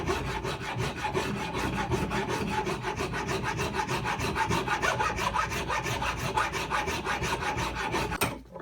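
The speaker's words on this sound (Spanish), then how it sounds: "Lo único que tenéis que hacer es limar los 2 tornillos por los 2 lados e ir enrasando con la cacha." Two screws being filed flush against the handle scale of a survival knife, a steady rapid rasping of back-and-forth strokes that runs unbroken and close for several seconds with no talking.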